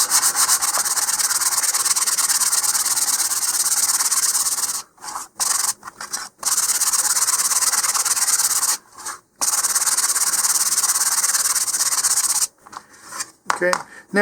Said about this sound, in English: So make sure you're sanding with the grain